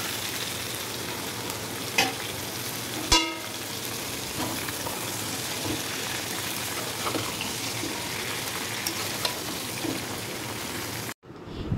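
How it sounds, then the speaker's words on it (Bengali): Vegetables fry and get stirred in hot oil seasoned with bay leaf and panch phoron, a steady close sizzle with a few sharp spatula clinks against the pan. "তো আমি এখন তেলের মধ্যে তেজপাতা এবং পাঁচফোড়ন দিয়ে দিয়েছি"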